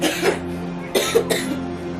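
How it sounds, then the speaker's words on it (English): A few harsh coughs from children close up, an initial cough followed by a quick pair of coughs, loud against a faint background hum. "They've been coughing like this for some time now"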